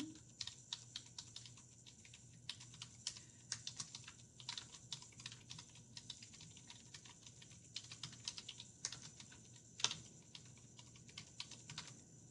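Steady typing on a computer keyboard, a quick run of light, fairly faint key clicks with one sharper tap near the end, keys pressed while entering bullet text on a presentation slide, with no voice.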